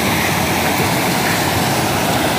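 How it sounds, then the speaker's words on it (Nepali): The Seuti river near Dharan, Nepal, flows and rushes in a loud, steady, close roar of moving water with no pauses. "यसरी सेउती खोला बगिरहेको छ, सुसाइरहेको छ, सङ्लो पानी बगेर गइरहेको छ"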